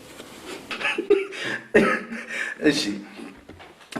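A person coughing in an Ethiopian drama scene, a few sharp close coughs spaced about a second apart, mixed with vocal sounds.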